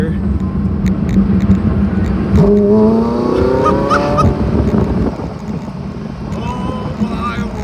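Porsche 918 Spyder's 4.6 liter V8 accelerating on a road, its pitch sweeping upward through rising revs amid road noise, with a voice talking over it.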